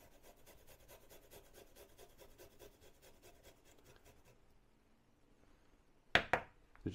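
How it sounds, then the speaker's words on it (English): Garlic cloves grated by hand for a curried lentil soup, a faint, quick rhythmic scraping that stops partway, followed by a few sharp clicks and knocks near the end. "next I'm going to grate"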